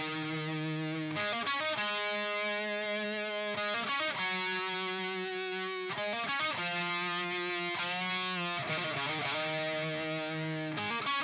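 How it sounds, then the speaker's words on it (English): Distorted electric lead guitar played through a cabinet miked with an SM57 and a 421, loud sustained notes and phrases with bends, continuous and alone without talk. "Let's look at this lead guitar, because this I switched in, so we had an SM57 and a 421 on the cab"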